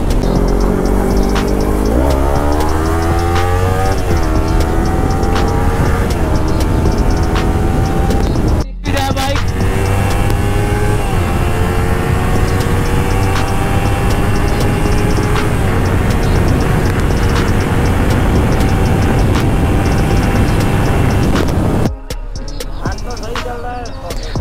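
A Kawasaki Ninja 300 motorcycle's exhaust roars while ridden fast on a Ladakh road, loud and continuous with climbing gear-change pitch sweeps, a brief cut near the middle, and wind buffeting toward the end.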